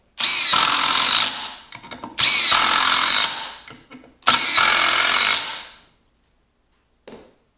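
Cordless drill drives 3-inch screws in three loud, close whirring bursts, each lasting about one and a half to two seconds and separated by short pauses, ending with a brief faint click.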